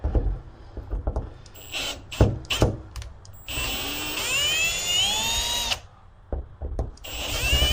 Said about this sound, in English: just drill appropriate holes in our Model T gas tank